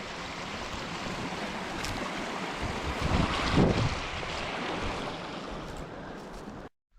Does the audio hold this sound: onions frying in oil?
no